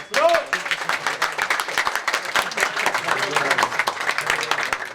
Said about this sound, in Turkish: Ustalarımıza bir alkış